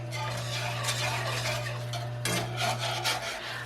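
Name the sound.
stirring Guinness and beef stock gravy in a pot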